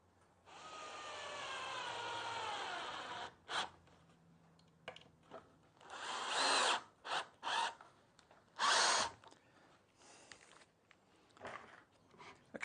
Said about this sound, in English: And pop your screws in.